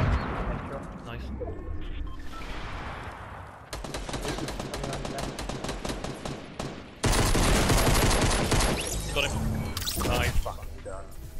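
Fortnite gunfire cracks out in dense rapid bursts and long automatic volleys, loud and close with short pauses between them, while players talk over the shooting.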